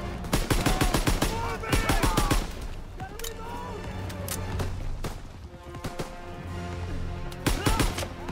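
A dense WW2 campaign battle crackles with rapid machine-gun bursts and scattered rifle shots, close and loud, continuing nearly throughout with a rumbling background.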